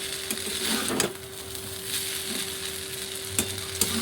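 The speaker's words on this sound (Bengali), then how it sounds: "এবার এগুলোকে আমি মিক্স করে নেব" Lemon rice being stirred and mixed in a pan with lemon and salt, a continuous close scraping and rustling under a faint steady hum, with a few sharper knocks of the utensil against the pan.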